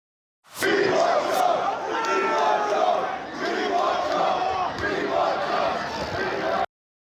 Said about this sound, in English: there were some chants of "We want Trump" heard from the crowd earlier in the day